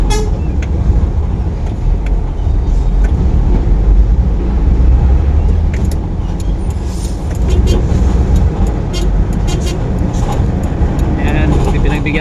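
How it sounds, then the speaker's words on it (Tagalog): Street traffic on a road in Tondo, Manila, with a truck rumbling close by amid continuous engine noise, scattered horn toots and a voice speaking over it. "Truck naman to."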